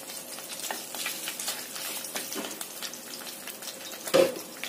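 Ginger sautéed in about two tablespoons of hot oil crackles and sizzles softly and continuously, with a brief louder clatter near the end, no voices.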